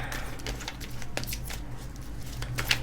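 Tarot cards shuffled by hand in quick riffling bursts, a close papery flutter repeating over a low steady hum.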